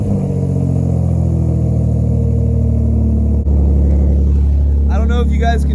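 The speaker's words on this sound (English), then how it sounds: "this is what my G currently sounds like" An Infiniti G35 coupe with a damaged, detached muffler runs with a loud, deep, steady exhaust drone close by, ending in brief higher rasping bursts.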